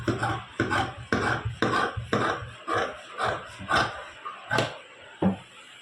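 Scissors cut through fabric panels for a gown, making a steady series of about a dozen crisp, close snips in an even rhythm. The snips slow slightly toward the end, and no voices are heard.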